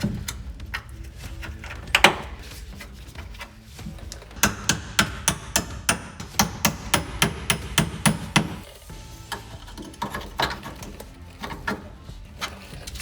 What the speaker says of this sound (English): Next, I'm going to pry away this trim gently so I can fit these clip nuts back here.